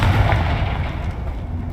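In Hogwarts Legacy, a Confringo fire spell bursts with a heavy booming rumble that hits hardest at the start and then rolls on as a steady low roar.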